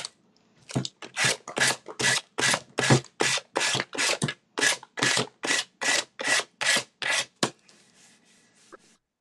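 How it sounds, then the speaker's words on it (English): A sanding sponge rubs briskly along the edge of a decoupaged piece to take off excess paper, about fifteen loud, close, rhythmic rasping strokes in a steady back-and-forth pattern before stopping. "I just take a sanding sponge"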